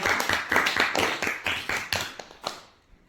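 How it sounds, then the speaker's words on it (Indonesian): A class claps in unison in a patterned rhythm, sharp grouped hand claps in quick bursts separated by short pauses, close and lively, ending with a few scattered final claps. "Baik, kita tepuk tangan lagi."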